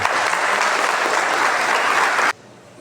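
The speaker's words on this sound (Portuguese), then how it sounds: "Salve de palmas a todas as mães." Church congregation at a Sunday service applauding for all the mothers: dense, steady clapping from many hands that fills the room, then cuts off abruptly near the end, leaving only quiet room tone.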